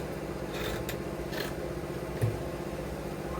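Scissors snip through fabric in a few quiet, brief cuts, close but soft against a low background hum.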